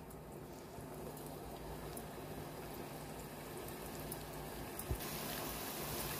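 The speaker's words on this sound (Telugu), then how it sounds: "ఆయిల్ వేడెక్కిందండి ఇప్పుడు ముందుగా ప్రిపేర్ చేసుకున్న గులాబ్ జామ్ని దీనిలో వేసుకుందాం" Sweet potato gulab jamun balls fry in hot oil, making a steady, soft sizzle and bubbling hiss that stays close and even the whole time, with no one talking.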